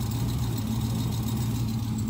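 A twin-turbo Scat Pack car with a carbon fiber hood idles close by, giving a steady, even low rumble that runs unbroken and alone.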